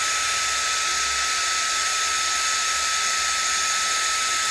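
An electric sander with built-in dust extraction, rated to about 30,000 rpm, runs in a steady, loud, high-pitched whine with a hissing airflow, unbroken from start to finish with no talking.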